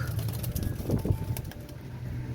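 Cream-eyed pigeons coo in low, soft, throaty bursts, with steady rustling and background noise throughout.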